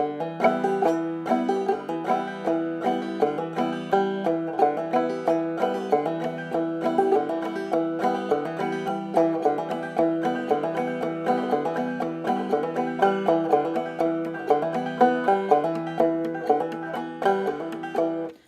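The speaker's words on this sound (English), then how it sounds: "So all I did there was add the 2nd and 3rd string with that same hammer on" Clawhammer banjo played alone, repeating a pattern with hammer-ons on the second and third strings; a steady, bright run of plucked notes with an even bouncing rhythm throughout.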